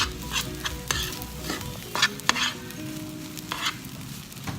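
Rice fries with a steady sizzle on a home hibachi grill while a spatula scrapes and clacks against the hot surface, irregular strokes up close.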